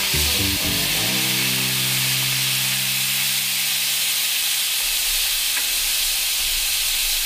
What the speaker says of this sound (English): I'm going to deglaze the pan with a little bit of white wine